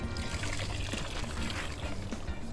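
Liquid reconditioner mix being poured into a half gallon of water for a 2013 Ford F150 FX4, a steady close splashing pour running throughout with no talk over it.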